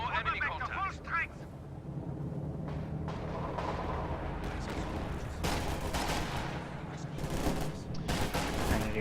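Panzerwerfer rocket artillery fires in a video game battle, a dense barrage of repeated blasts and crackling gunfire running the whole time amid wider combat noise, with a voice speaking over parts of it.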